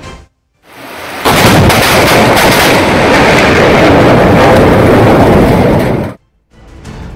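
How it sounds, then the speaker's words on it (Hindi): A loud lightning strike during rain: a sudden deafening crack of thunder that rolls on for about five seconds, close and powerful, then cuts off, with faint rain before and after. "वहां धमाकेदार आवाज के साथ अचानक बिजली गिरी"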